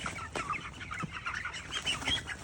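Broiler chickens on a contract poultry farm, about 17–18 days old, cluck steadily and busily at close range as birds are caught for weighing, with no talking.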